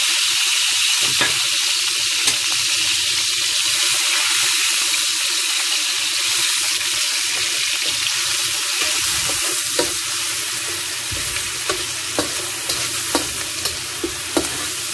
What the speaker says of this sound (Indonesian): Tumis bawang bombay dengan bekas minyak untuk menggoreng telur tadi.